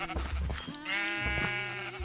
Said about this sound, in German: Schaf und Schaf.